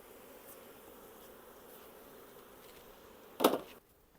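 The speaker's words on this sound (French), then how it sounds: "Donc, ça attire après toutes les abeilles." Honeybees buzz faintly around hives drawn by sprayed nectar in hot weather, a low steady hum with a brief louder burst as one flies close to the microphone near the end.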